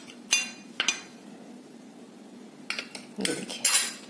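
A metal spoon clinks and scrapes against a bowl while moong dal paste batter is mixed, a few sharp separate knocks early on, then a busier cluster of clatters near the end, close and clear with no talk.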